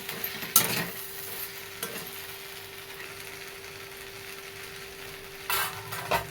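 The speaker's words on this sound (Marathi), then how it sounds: "थोडीशी कोथिंबीर टाकून घेते परतून घ्यायचं चांगलं ह्याला" Okra stir-frying with fresh coriander gives a low continuous sizzle, with loud scraping stirs against the pan at the start and again near the end, and a faint steady hum underneath.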